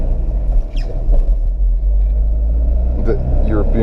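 A 1987 Volvo 240 station wagon, European version with a single large carburetor, rumbles at a steady low drone from inside the cabin while a voice speaks over it.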